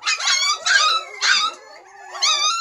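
Several dogs whine and howl in repeated high, wavering cries, close by and loud, in bursts with short gaps, as they wait for food in cold winter weather.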